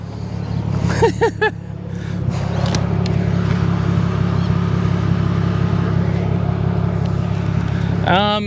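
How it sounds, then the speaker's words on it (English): An old Toyota Mark II car revs hard and spins a tyre, a loud, close engine roar that climbs and then holds a sustained drone with tyre noise, no talking over it. "Just decided I'd see if the old Mark II would spin a tyre, and it did"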